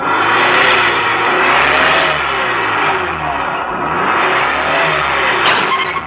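A car engine catches after being push-started on a rural road and revs steadily and loudly, the mid-pitched drone rising and falling over about six seconds with no voices.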